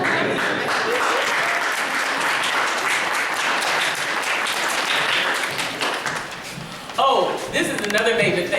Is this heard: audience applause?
yes